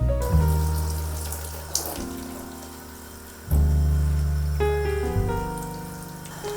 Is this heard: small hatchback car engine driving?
no